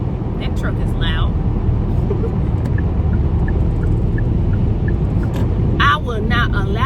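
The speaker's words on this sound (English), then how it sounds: "That truck is loud." A loud, heavy vehicle roar fills the background with a broad low rumble, while a person's voice breaks in briefly near the start and end.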